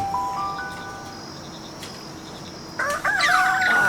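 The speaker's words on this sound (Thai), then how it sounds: "ไก่ขัน" A rooster crows at morning in the video game Palworld, a loud bright call rising over quiet background ambience near the end after a few faint tonal chimes.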